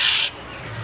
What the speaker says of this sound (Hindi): यहाँ इनके ऊपर स्प्रे किया जा रहा है